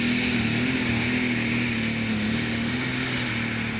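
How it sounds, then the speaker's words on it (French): Dutch super stock pulling tractor engine roars at full load, a loud continuous high-pitched drone with steady pitch and no pauses. "le moteur est pleine charge"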